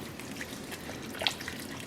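Water poured from a can into a cooking pot of spiced birria broth, a faint soft trickle and splash over a quiet background.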